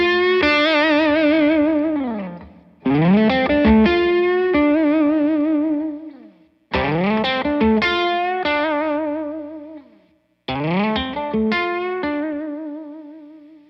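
An electric guitar riff played through a Jared James Nichols signature rig repeats three times with different tones, bright and effected with distortion and reverb, loud and alone. Each pass has sliding, sustained notes and ends in a brief silence.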